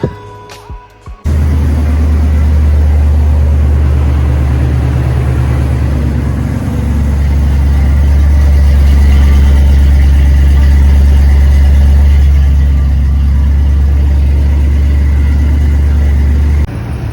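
A Ford Maverick engine cranks briefly, catches and settles into a loud, steady idle with a deep low rumble that holds unchanged through to the end.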